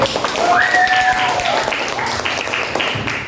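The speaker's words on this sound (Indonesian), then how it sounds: "Tepuk tangan sekali lagi" Classroom applause from students, a burst of clapping with some voices and a brief whistle-like tone mixed in, fairly close and lively throughout.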